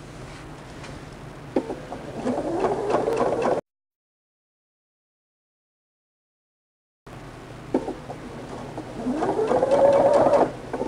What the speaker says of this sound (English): what I'm going to do is back stitch here because you definitely don't want those seams to come out